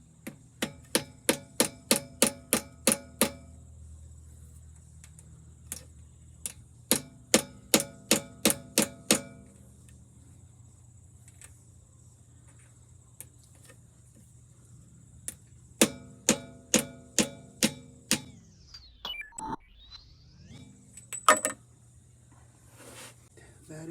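A 5/16 punch is struck repeatedly with a hammer to seat a part in a 4L80E GM transmission, producing crisp, close metallic taps in rapid runs of several blows separated by quiet pauses, with a person talking between them.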